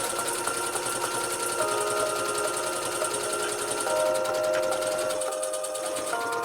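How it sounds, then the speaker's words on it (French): A sewing machine stitches the top hem of a linen tote bag, running continuously with a fast, even mechanical whirr and needle rattle close by, with no voices over it. "Toujours à l'aide de ma machine à coudre."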